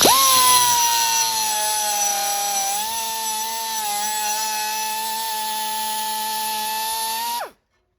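A power tool cuts a sheet metal patch panel for a 1964 Chevy Impala front fender, one continuous high-pitched whining screech lasting several seconds close by, ending abruptly in silence.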